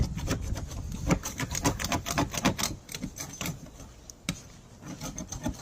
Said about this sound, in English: More prep work, doing all the scraping.